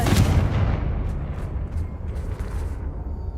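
A Confringo spell blast exploding in Hogwarts Legacy, a loud close booming burst that rumbles and slowly decays with dull crackling.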